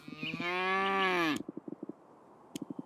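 A close, loud cow moo from the video game Moonlight Peaks, lasting about a second, followed by quick rhythmic thumping footstep-like taps.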